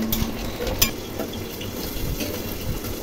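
Potatoes, pointed gourd and fried shrimp simmer in a pot of water, giving a steady low bubbling and faint sizzle with a few soft stirring scrapes and a brief utensil clink, close and continuous.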